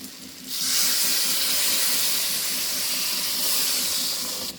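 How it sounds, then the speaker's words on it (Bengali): Hot water is poured into braised chicken in a pan, producing a steady loud hiss and rushing splash that starts abruptly and continues evenly for several seconds without speech. "এখন একটু গরম জল দিয়ে দেবো"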